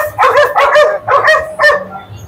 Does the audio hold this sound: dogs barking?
yes